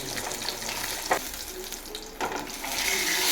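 Masala-coated fish frying in oil in a pan, a close steady sizzle with a couple of sharp stirring or turning clatters and a rising hiss toward the end.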